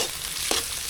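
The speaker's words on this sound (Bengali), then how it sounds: "ডিম ভাজা কমপ্লিট হয়ে গেছে।" Spiced eggs fry in a pan with a steady, soft sizzle and faint stirring scrapes throughout, plus one brief utensil knock partway through, with no talking.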